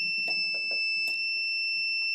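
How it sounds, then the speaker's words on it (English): A Cricut mug press sounds its finished alarm, a steady high electronic tone held throughout, with a few brief knocks and handling noises beneath it. "Our mug is done, so that is a really annoying alarm."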